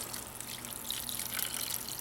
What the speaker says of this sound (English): Adding some water.